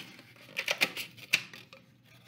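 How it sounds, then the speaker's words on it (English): Scissors cut around a styrofoam cup for a recycled-flower craft, giving several short, crisp snips and crunches close to the microphone, separated by brief quiet gaps. "around the styrofoam"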